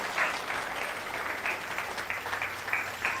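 Applause from a church congregation, a steady wash of clapping with bursts of louder claps, moderately distant and filling the whole stretch without any voices.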